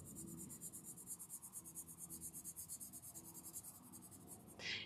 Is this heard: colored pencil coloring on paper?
yes